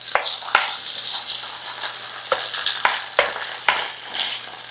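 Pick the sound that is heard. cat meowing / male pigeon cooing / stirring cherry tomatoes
stirring cherry tomatoes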